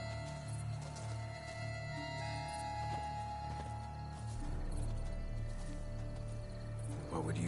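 Roach the horse in The Witcher 3 trots with steady hoof clip-clops beneath layered game music and ambience, the footfalls growing fuller and closer in the latter half.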